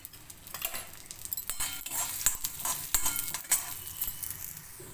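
Coriander seeds roast in ghee in a pan, giving a faint crackling sizzle broken by scattered scraping stirs and light metallic clinks.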